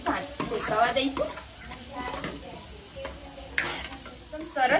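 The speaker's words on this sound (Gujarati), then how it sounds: "સારી રીતના આપણે મસાલા મિક્સ કરી દઈશું, અને મસાલાને આપણે 1 થી 2 મિનિટ શેકાવા દઈશું।" Masala spices being stirred and roasted in a pan, with a steady sizzle and repeated scraping stir strokes, close and moderately loud; no speech.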